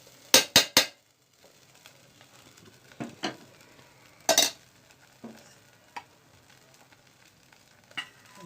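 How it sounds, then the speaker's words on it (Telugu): Mint leaves fry in a little oil in a pan, giving a soft, faint sizzle broken by sharp clinks of a utensil against the pan and a few stirring scrapes. "అదే దాంట్లో కొంచెం అంత నూనె వేసుకుని పుదీనా కూడా వేయించానండి."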